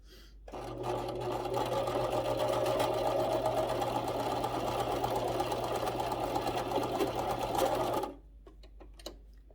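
A home sewing machine stitches fabric for a Christmas craft project in one steady run of about seven and a half seconds, with an even, close motor whir and rapid needle rhythm, then stops abruptly and leaves a few faint handling clicks.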